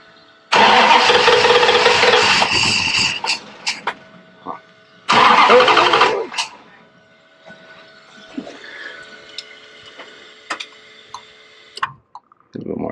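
A car engine cranks and catches twice with a little gas, each time a loud close roar lasting about a second or two before dying away, followed by faint ticks and clicks in a quiet garage.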